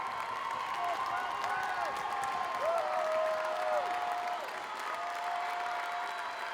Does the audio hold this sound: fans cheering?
yes